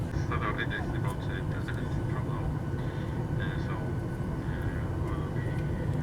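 Constant low airplane cabin roar on a flight to Greece fills the space, steady and droning, with faint muffled voices murmuring underneath.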